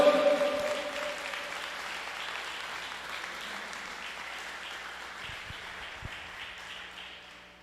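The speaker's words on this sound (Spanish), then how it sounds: "dele el aplauso al Señor" A congregation at a church service applauds to praise the Lord, with soft, distant clapping fading gradually over several seconds and a few sharper claps near the end.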